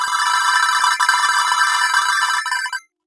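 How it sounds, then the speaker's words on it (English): A loud notification alert chimes from a device, a bright sustained electronic tone with a shimmering warble that rings for nearly three seconds before cutting off abruptly into silence. "the notification's a bit too loud."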